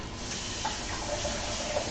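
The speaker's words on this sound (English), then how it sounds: "We're gonna go in with this chicken broth that I made first." Homemade chicken broth, about three cups made with bouillon cubes, pours into a gumbo pot in a steady, close, continuous stream that runs alone for the whole short moment.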